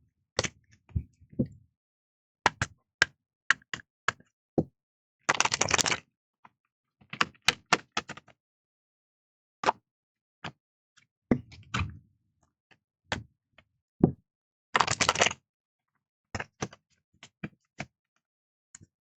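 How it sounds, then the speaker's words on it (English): Oracle cards being shuffled during a tarot reading, heard as bursts of crisp riffling and sharp tapping clicks scattered irregularly, close and fairly quiet, with no voice. "One more shuffle"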